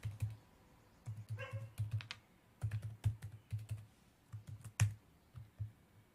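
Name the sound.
typing a password on a computer keyboard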